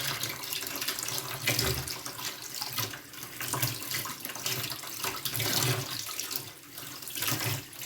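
Water from a kitchen tap runs steadily over beef tripe being rinsed and turned by hand in a sink, a close, continuous splashing stream with slight shifts as the tripe moves beneath it.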